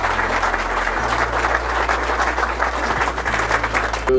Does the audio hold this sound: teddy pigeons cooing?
no